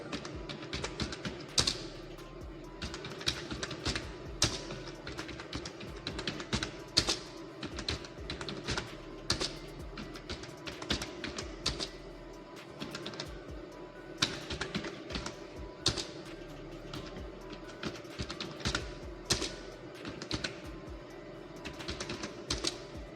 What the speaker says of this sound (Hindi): स्टूडेंट का नाम आप टाइप कर लीजिएगा